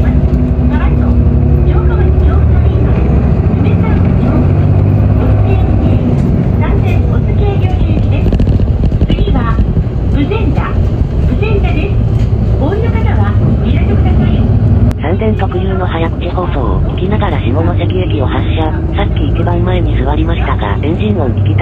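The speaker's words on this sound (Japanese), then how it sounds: "甲高いターボの音がいいわね。" An Isuzu Erga city bus of the Sanden Kotsu fleet in Shimonoseki runs with its engine and high-pitched turbo whine audible inside the cabin, a continuous drone and rising whine heard close up beneath ongoing talk.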